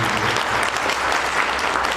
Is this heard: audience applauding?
yes